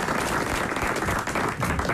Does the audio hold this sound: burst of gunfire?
no